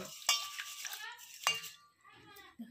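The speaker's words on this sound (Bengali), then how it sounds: "ভালো করে চটকে চালটাকে ধুয়ে নেব।" Soaked rice rubbed and washed by hand in a bowl, a wet, clinking scrub with a few sharp knocks against the vessel, while someone speaks over it.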